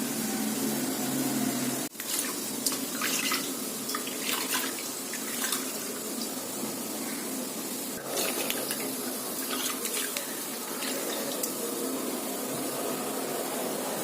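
Vegetables such as brinjal and okra being washed in water in a vessel, with continuous running and splashing water, small knocks and one sharp clink near two seconds, steady and close throughout.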